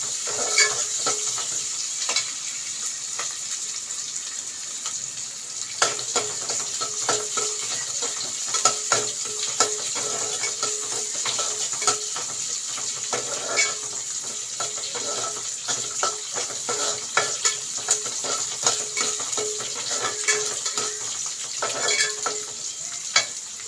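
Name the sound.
stirring pearl millet rice (kammanchoru) cooking in pot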